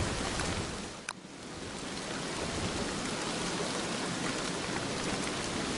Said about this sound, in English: I don't know if we should wait out the rain or not.